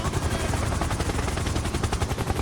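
Rapid automatic gunfire crackles over a helicopter's rotor thump in Grand Theft Auto V, a steady dense burst of shots running loud and continuous throughout.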